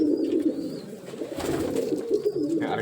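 Pigeons coo in a low, steady murmur close by, soft repeated throaty calls running continuously, with no talk over them.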